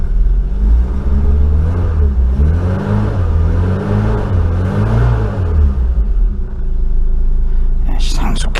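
An Austin Maxi car engine runs at idle nearby, a steady low rumble with a mild rise and fall in revs, ending with a brief rattle.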